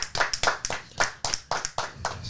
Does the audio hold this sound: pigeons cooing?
no